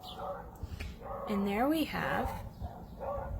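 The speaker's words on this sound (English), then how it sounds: "excuse the dogs barking in the neighborhood" Dogs bark and yip out in the neighborhood, somewhat distant, in a short burst of pitched barks while a person talks over them.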